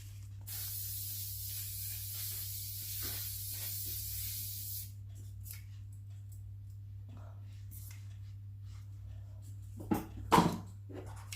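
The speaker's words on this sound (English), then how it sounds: "I'm going to put a bit of normal hairspray in." Regular hairspray sprayed onto hair gives a steady, close hiss lasting about five seconds before falling away, over a constant low electrical hum, with a few brief rustles near the end.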